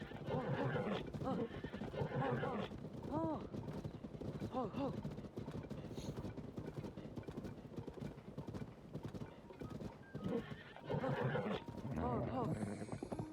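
Several horse whinnies in the video game Zelda: Tears of the Kingdom ring out over steady hoof clip-clops, with a person talking throughout; the neighs rise and fall in bursts, fairly close and loud.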